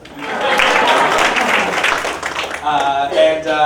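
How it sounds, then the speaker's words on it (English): An audience at a business seminar breaks into applause, a loud burst of many hands clapping that gradually thins out, with a few voices audible near the end. "I'll pause for an applause."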